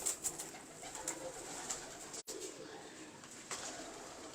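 Pure-bred Heeralal pigeons coo softly in a loft, a low murmuring under steady background noise, with faint bird calls scattered throughout and a brief dropout midway.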